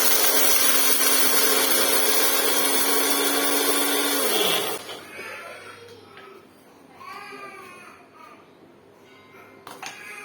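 A mixer-grinder whirs loudly at a steady high pitch while blending roasted masala, ginger and garlic into paste, then winds down and stops, leaving quieter clatter and scraping afterward.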